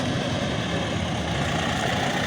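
A tractor engine roars hard while hitched to a corn seeder before planting, a loud, unbroken low-pitched drone close by with no pauses.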